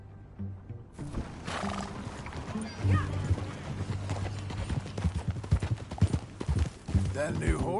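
Horse hooves clip-clop in Red Dead Redemption 2 with a brief whinny, mixed into game music and ambience while someone talks over it.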